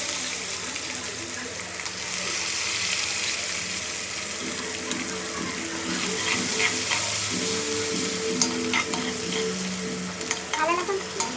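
Ginger-garlic paste fries in oil in a kadhai over a tempering of mustard seeds, cumin, asafoetida and curry leaves. A loud, continuous sizzle runs throughout under stirring, with a few sharp metallic clinks near the end.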